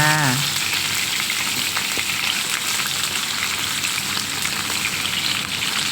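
Salted croaker fish frying in hot oil, a steady dense sizzle with crackling spits running throughout, close and fairly loud, no voices.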